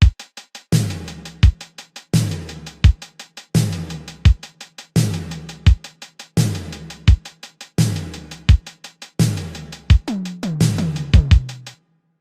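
An 80s-style drum mix loops steadily and loudly. Crisp hi-hats tick under a punchy snare, and an open hat splashes at each repeat, while low thumps and tonal hits close each bar.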